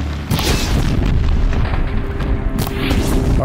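Blaze canisters explode in the Horizon Zero Dawn video game, setting machines on fire. A heavy, loud boom rolls into sustained fiery rumbling, with a few sharper bursts along the way.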